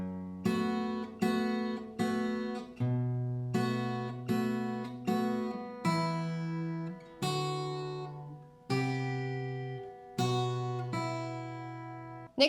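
Fingerpicked acoustic guitar playing the opening bars of a song, a steady sequence of plucked notes and bass thumbs each ringing out and decaying, clear and close with no voice.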